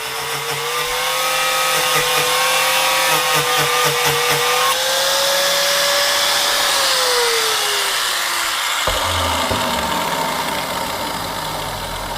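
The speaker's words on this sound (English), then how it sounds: "I'm going to run a grinder right straight down the center of it, a cutting wheel actually" An angle grinder with a cutting wheel cutting down steel vise jaws gives a loud, continuous whine, its pitch sagging as the wheel bites in and dropping abruptly near the end, with no talk.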